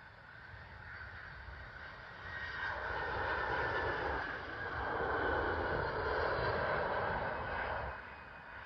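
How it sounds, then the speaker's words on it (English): A United Airlines Boeing 767 from Chicago lands at London Heathrow, its jet engines rising to a broad roar midway through and then easing off slightly, heard from a distance with no talk. "Coming in now is United Airlines Boeing 767 from Chicago"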